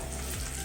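Bitter gourd (karela) slices roasting in a hot pan, a brief dense hiss of frying, close and continuous.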